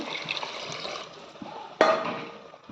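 Water poured into a pot of biryani whose spiced base has already been fried down, a brief trickle and splash that surges sharply near the end, close and fairly quiet, with no talking.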